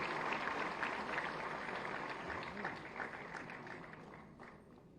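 A large crowd applauds at a government loan-distribution ceremony for street vendors and women's self-help groups, producing a steady, dense wash of clapping that holds for the full stretch and fades slightly toward the end.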